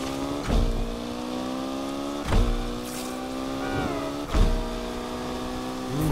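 Ferrari 488 Pista in the Need for Speed Unbound racing game, its engine droning steadily with rising and falling harmonic pitch, punctuated by three sharp thuds roughly two seconds apart, loud and close with no talk.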